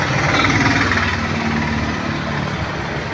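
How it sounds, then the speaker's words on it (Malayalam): Hindustan Motors engine of a Trekker jeep running with the bonnet open, a steady low idling rumble and vibration close by, fairly loud and even throughout, no speech over it. "ഇതാണ് HM-ന്റെ എഞ്ചിൻ"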